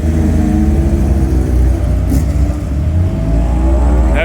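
A car on the Donington Park race track during a track day, driven by a first-timer with the owner beside him, heard from inside as a loud, steady engine drone that holds and pulls on without a break.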